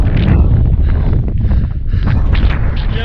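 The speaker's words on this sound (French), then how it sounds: "Il y a un vent de malade, un vent de fou." Strong mountain wind on the Chaberton buffets the microphone with a loud, continuous, gusting roar that never lets up.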